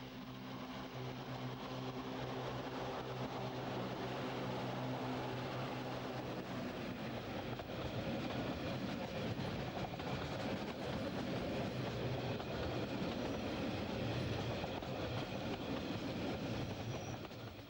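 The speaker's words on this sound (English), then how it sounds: "The Glacier Express is usually hauled by one of 3 enormously long ABDEH 88 locomotives." Glacier Express train in the Swiss mountains, hauled by a long articulated ABDEH 8/8 locomotive, rolling past as a sustained loud rumble with faint wheel clatter and a steady drone throughout.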